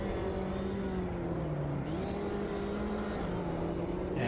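Mini Cooper race cars accelerate off the start in a racing video game, a steady engine drone rising and shifting pitch through gear changes, loud and continuous with other cars around.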